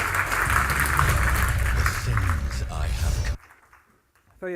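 Conference audience applauding a game design speaker at the Red Dot Conference 2014, a dense, loud wash of clapping filling the room that cuts off abruptly, followed by near silence and the start of a voice.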